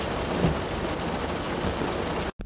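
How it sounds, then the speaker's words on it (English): Steady rain pours down outdoors, making a dense, even hiss close to the listener that runs without pause until a brief dropout just before the end. "Now it's raining."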